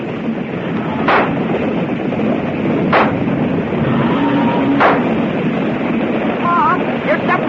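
Gunfire effects in a frontier radio drama about picking off the leaders of a herd: three heavy booming shots spaced a couple of seconds apart, loud and close over a constant rushing roar like wind or a stampede.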